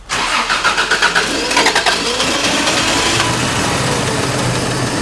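A car engine fitted with an emissions modification cranks in a burst of uneven pulses, catches, and settles into a steady, loud idle close by.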